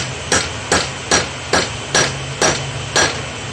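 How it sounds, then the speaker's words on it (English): A hammer strikes steel while a seax blade is forged, seven sharp, ringing blows landing at a steady, unhurried rhythm, close and loud, with each strike followed by a brief decay and no talking. "kind of smoothen it out with the hammer"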